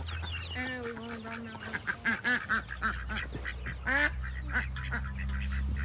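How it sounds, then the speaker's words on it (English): Loud ducks quack nearby in quick, overlapping bursts over a low, steady background hum. "Man, you have some loud ducks."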